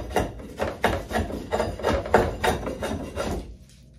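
A vintage drawknife struggling to bite into wood while shaping a bow, a steady series of close, rhythmic scraping and knocking strokes, roughly three per second, that stop abruptly near the end.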